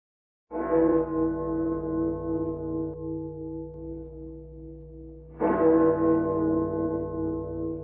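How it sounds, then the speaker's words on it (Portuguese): Carillon bells ring out the midday strokes of twelve, two loud resonant strikes with long sustained humming tones decaying between them, heard clearly with no talk. "Ao suar o carrilhão dando as 12 badaladas, ao se encontrarem os ponteiros na metade do dia,"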